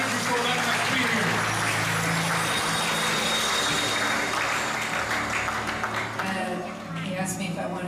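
An audience at a church Bible college conference claps hands together in a sustained, dense round of applause, with a low steady hum underneath and the clapping thinning toward the end.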